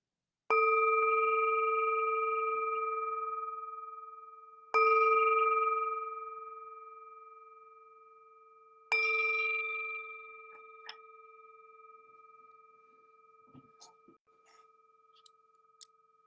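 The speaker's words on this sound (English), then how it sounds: "the sound of this beautiful bell brings us back to our true home" A meditation bell is struck three times at the start of a mindfulness session. Each strike rings out clearly and decays slowly over several seconds, and the last ring fades into near silence broken by a few faint clicks.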